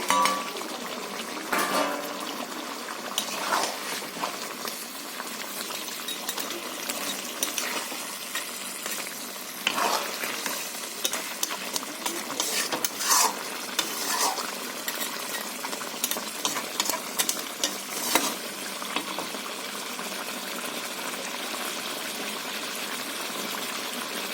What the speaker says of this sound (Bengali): ভেজে রাখা মাছগুলো আমি দিয়ে দিচ্ছি